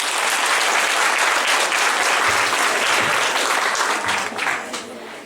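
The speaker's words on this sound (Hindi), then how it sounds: "एक बार ताली में स्वागत होना चाहिए मैडम" An audience claps steadily to welcome a woman called up from the crowd at a motivational talk, a loud, dense ovation that holds for several seconds before thinning out at the end.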